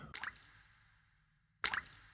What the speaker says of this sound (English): Drip, drip.